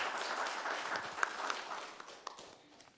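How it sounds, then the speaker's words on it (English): Applause from the audience at a city commission meeting as honorees come up for a special proclamation, a steady crowd clapping at moderate level that thins out over a few seconds, with a few sharper individual claps standing out. "give them a round of applause"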